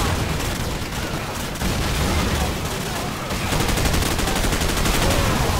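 Sustained automatic gunfire in Call of Duty 4: Modern Warfare, a dense continuous rattle of machine gun bursts with explosions, loud and close, with a voice speaking over parts of it.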